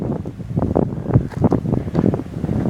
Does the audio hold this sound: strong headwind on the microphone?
yes